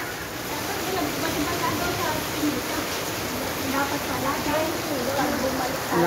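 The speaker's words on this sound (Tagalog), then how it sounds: "Lakas ng ulan." Heavy rain pouring down in a steady, dense hiss with no pauses, close and loud, filling the whole stretch.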